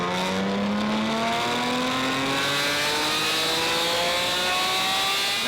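A Porsche 718 Cayman GT4 RS with a rear-section exhaust revs steadily on a dyno, a loud continuous engine roar whose pitch climbs smoothly through the rev range with no talking.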